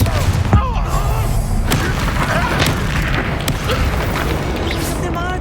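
A Confringo spell explosion bursts in Hogwarts Legacy, a loud boom amid ongoing combat clatter and scattered impacts, with a dense rumble of battle underneath throughout.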